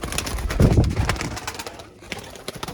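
Pigeons coo close by in soft, throaty bursts among a clatter of wings and scuffling, with someone talking briefly in the background.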